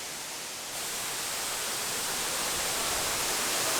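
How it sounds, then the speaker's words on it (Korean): A large artificial waterfall pours continuously, a broad, steady rushing roar that swells slightly louder after the first moment and carries on evenly with no voices. "아, 인공폭포 치고 규모가 되게 크네요."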